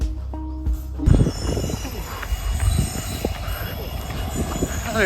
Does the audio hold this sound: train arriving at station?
yes